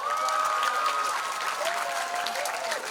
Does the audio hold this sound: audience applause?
yes